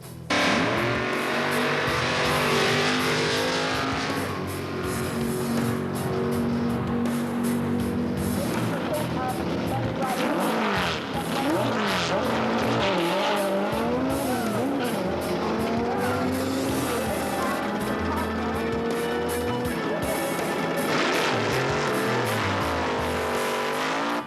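Super Pro drag race cars at Brampton Raceway roar continuously at close range, engine pitch sweeping up and down through runs, with tire squeal and a commentator's voice mixed underneath.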